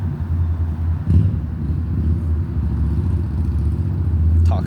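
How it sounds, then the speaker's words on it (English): Cars rumble as they pull up at a roadside tailgate-style meetup, with steady low engine noise close by and a slight swell as one vehicle approaches, no talking. "here's another 2 cars pulling up"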